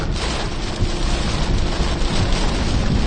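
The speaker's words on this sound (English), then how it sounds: "it's a rain shower" Rain shower on a vehicle during storm chasing, a loud steady broadband hiss and patter that stays constant throughout with no voices.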